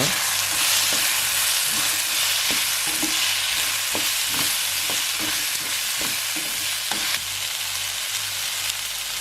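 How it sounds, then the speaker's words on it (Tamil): Ridge gourd peel sizzles and fries in a hot pan, with a utensil stirring and scraping in a loose rhythm beneath the steady hiss. "பீர்க்கங்காய் தோலை இதில் சேர்த்து நல்லா வதக்கிடலாங்க."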